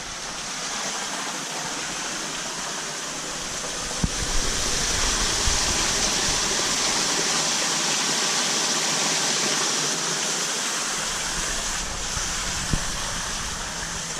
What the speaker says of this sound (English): So this is the trickle filter for the koi pond.